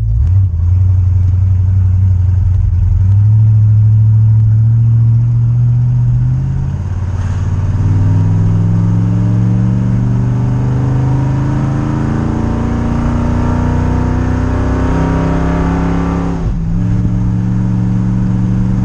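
A car engine pulls through several gear shifts, rising in pitch under acceleration, dropping at each change, then climbing again, loud and close throughout with no talk.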